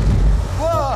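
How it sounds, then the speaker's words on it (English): A gyrocopter's flight engine starting up, a loud low rumble and wind-like roar filling the whole moment, with a rising whine near the end. "Oké, okay, then let's go start the engine."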